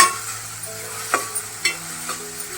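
Onion with ginger, garlic and chili paste frying in a pan, a steady soft sizzle broken by a few light scrapes and taps of a spatula stirring, no voices.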